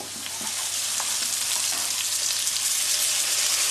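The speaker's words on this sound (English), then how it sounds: "The honey is gonna melt very quickly as soon as we put it in the frying pan." Steady, dense sizzling of a honey mixture frying in a hot pan, continuous and close, with faint stirring clicks and no voices.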